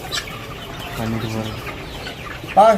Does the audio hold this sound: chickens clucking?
yes